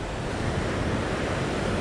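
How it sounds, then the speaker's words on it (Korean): High ocean waves and surf at a Sydney fishing spot roar in a dense, loud, continuous wash, with wind buffeting the microphone and no voices. "오늘 파도가 상당히 높다고 했는데"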